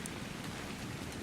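Rain falling in the video game ARK Survival Evolved, a steady, even patter and hiss that continues throughout with no voices over it.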